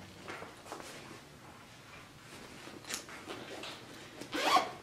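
A zipper bag holding knitting needles is unzipped in a few short, quiet scratchy pulls, with a louder rasping zip near the end against a low room hush.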